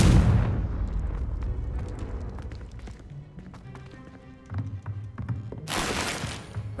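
A Confringo fire spell bursts in the video game Hogwarts Legacy, a loud booming blast at the start, then a low rumble with scattered ticks and a second bright burst near the end.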